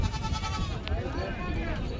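Goats bleat at a rural goat market, a single short bleat rising through a busy outdoor background while people talk nearby.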